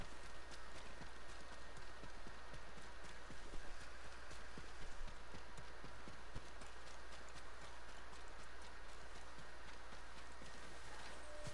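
Horse hooves clip-clopping steadily in the video game Ghost of Tsushima, a brisk continuous run of crisp hoofbeats over a constant low hum with light rain-like patter.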